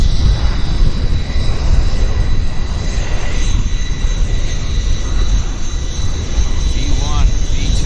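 A CRJ jet takes off and rotates at Vancouver YVR airport, its engine roar loud, broadband and steady for the whole stretch, with a voice faintly under it.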